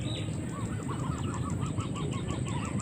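A hen clucks in a quick, repeated rhythm amid steady background noise and a faint high hum, with no voices.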